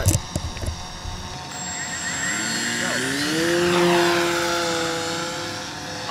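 An RC Lego airplane's propeller motor whines loudly at high throttle, rising steadily in pitch and holding a strong, close drone as it spins up.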